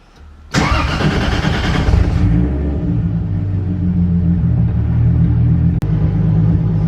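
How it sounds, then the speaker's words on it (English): A car fitted with a Toyota 1JZ engine cranks briefly and fires, settling into a loud, deep rumbling idle close by, with no talking. "Let's start her up and get her on the trailer."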